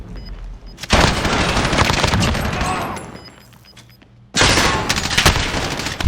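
Rapid bursts of automatic gunfire in the Call of Duty Warzone battle royale game, loud and sustained, broken by a short quieter gap before another hard burst resumes.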